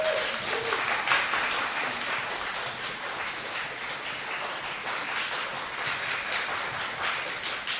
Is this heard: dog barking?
no